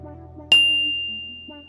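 A single bright notification bell ding strikes sharply and rings out with a long, slowly fading tone over soft background music.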